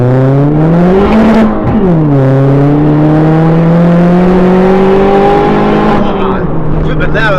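A caged, big-turbo Ford Fiesta ST with a screamer pipe accelerates hard, its loud close engine note climbing steadily through the revs with a brief dip at a gear change, turbo whoosh and flutter at the end.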